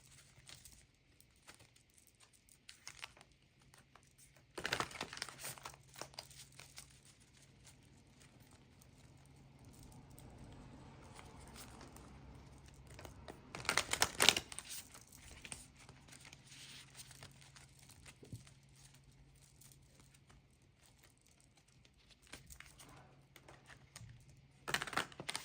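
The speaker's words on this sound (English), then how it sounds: "I just wish it was easier to shuffle." Tarot cards being shuffled by hand, soft papery riffles and crinkly flutters in scattered bursts with quiet pauses between, close and fairly faint.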